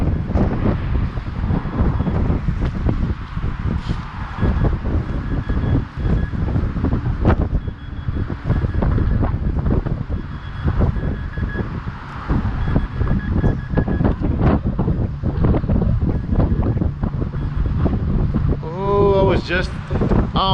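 Wind gusting outdoors in a storm during metal detecting in front of Temescal, Oakland, a steady broadband rush of buffeting wind noise on the microphone throughout, with rain and a few brief tonal beeps near the end.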